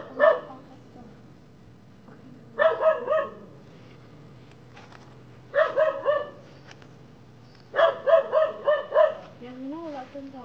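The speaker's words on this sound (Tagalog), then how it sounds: "Uy, may aso." A dog barks in several quick clusters separated by quiet gaps, fairly close, ending with a softer whine.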